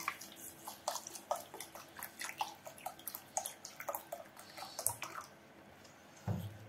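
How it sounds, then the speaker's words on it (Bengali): Polao rice being washed in water, a run of close, rhythmic splashes and swishes as grains are rubbed and stirred by hand, slowing near the end with a final slosh, with no talking. "পোলাওর চালটা আমি ভালো মতো পরিষ্কার করে নিব"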